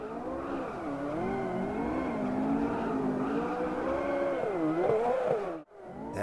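Corvette mid-engine supercar drifting in the AMS2 racing game: a continuous loud engine note rising and falling with revs, tire squeal layered over it, then a brief cut to silence before the engine resumes.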